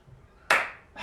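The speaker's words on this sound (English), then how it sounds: "It's just one solitary clap" A lone pair of hands clapping in a quiet room: one sharp, close clap rings out and decays, followed by the start of a second clap.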